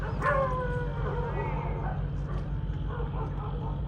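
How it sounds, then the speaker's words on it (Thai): Dog barking and yelping near a boat on a riverside while people fish, several sharp nearby barks over a constant low rumble of engine drone. "หมาก็เห่า"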